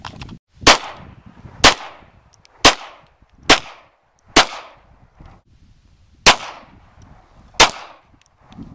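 Seven sharp 9mm gunshots crack outdoors at uneven intervals, each a loud, abrupt report with a short fading tail as a ball target is shot.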